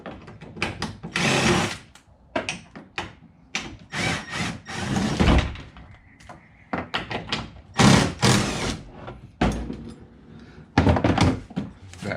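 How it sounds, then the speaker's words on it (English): A car's front door is opened and taken off. Irregular wooden-sounding thunks, knocks and short tool bursts come in clusters with brief quiet gaps between them. "Just gonna open the door."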